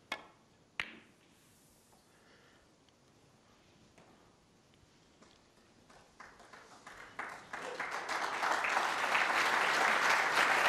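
A snooker crowd at the 2016 World Championship semi-final between Mark Selby and Marco Fu applauds a safety shot. After a quiet start with a couple of sharp clicks, the clapping swells gradually into loud sustained applause.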